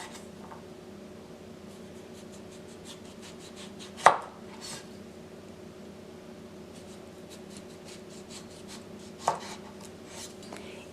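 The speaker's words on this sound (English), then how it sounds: "Now we can slice the tomato into a 1/4 inch thickness." A knife slices through green tomatoes in a quiet room, giving two crisp, isolated cuts several seconds apart, close but soft, over a faint background hum.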